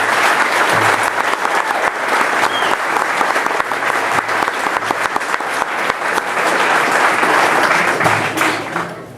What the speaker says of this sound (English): I'd like a round of applause, please.